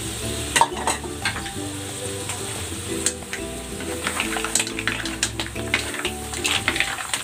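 Squid added to a hot pan for a Cajun seafood dish, frying with a steady close sizzle and scattered crackles while something is stirred, with faint clinks and a low music bed underneath; no talking.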